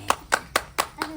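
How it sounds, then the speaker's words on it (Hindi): Five sharp, separate hand claps, close and evenly spaced about a quarter-second apart, during a comic engagement-ceremony skit where the couple exchange garlands. "ताली बजा"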